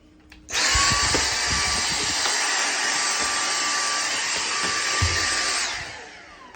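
A Dyson V6 handheld cordless vacuum cleaner whirs into life with a sharp start, holds a loud, steady high-pitched whine for several seconds, then winds down, with faint knocks beneath it.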